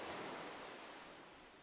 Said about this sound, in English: As the Atlantic waves break against the freezing shore of the west coast